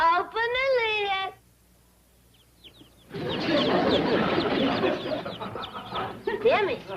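Chicks in a box chirp in a dense, busy chorus of high peeps that bursts in after a pause, close and fairly loud, with voices from a classic TV comedy scene talking around them.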